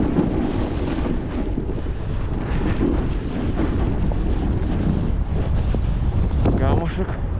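Wild mountain wind of about 100 km/h in a blizzard, a loud constant roar and buffeting against the microphone throughout, with faint voices partly buried underneath.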